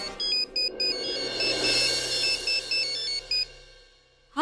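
A phone ringtone plays a repeating electronic melody of short beeping notes, fairly clear, then cuts off unanswered.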